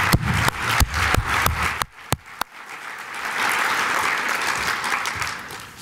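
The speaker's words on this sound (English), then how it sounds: "I think we owe you a round of applause." An audience at a golf classic fundraiser event breaks into applause, with a few sharp nearby claps at first, then a steady moderately loud wash of clapping from the room.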